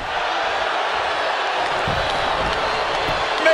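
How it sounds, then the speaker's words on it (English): Steady roar of a large arena crowd cheering during a WWE 2K22 championship wrestling match, a dense continuous wash of noise with a brief louder swell at the end and no talk over it. "The WWE Universe is showing their appreciation for the action they're seeing."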